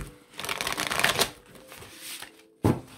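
Tarot cards are shuffled in a close, loud riffling rush, then a brief pause, then a single sharp snap as the deck is squared.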